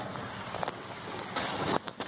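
Water from two disconnected radiator hoses on a Nissan S13 drains steadily into a container, a soft continuous splashing trickle with a few brighter surges, no talk.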